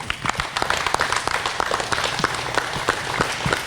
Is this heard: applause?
yes